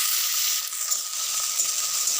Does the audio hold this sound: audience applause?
no